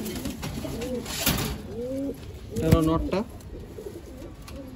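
Pigeons being paired for breeding in a loft give several close, throaty coos in repeated bursts, one louder run near the middle, while someone speaks briefly among them.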